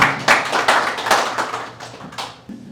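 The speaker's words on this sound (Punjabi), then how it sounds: "ਤਾੜੀ ਹੋ ਜਾਵੇ ਕੰਗ ਸਾਹਿਬ ਦੇ ਨਾਲ" A small audience at a Punjabi kavi darbar at the Punjabi Cultural Center in Fresno claps for a poet: a few sharp, scattered claps, close by, tapering off after a couple of seconds.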